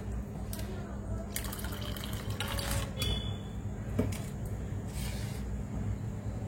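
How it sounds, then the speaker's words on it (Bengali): Water being poured into a thick, swollen batter, heard as soft splashes and trickles with a few light clinks of utensils against a bowl, fairly close and quiet. "আমাকে আরেকটু জল মেশাতে হবে"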